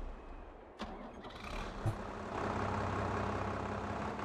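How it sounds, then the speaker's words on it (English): A rough car engine in the Farming Simulator game clicks and cranks, then catches and settles into a loud, steady, uneven idle, with no talking. "that engine sounds really rough"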